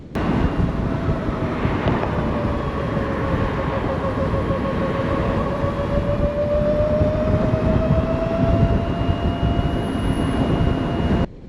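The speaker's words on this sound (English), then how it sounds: "it is a strange feeling riding a bike around, and it sounds like this" Steady rushing wind noise with a faint rising electric whine underneath from a 2024 LiveWire Mulholland electric motorcycle being ridden, constant and fairly loud throughout.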